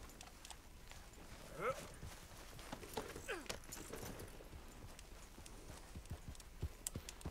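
Rapid hoofbeats of a ridden horse clatter steadily through a noisy outdoor soundscape in Red Dead Redemption 2, with faint creaks and scattered clicks.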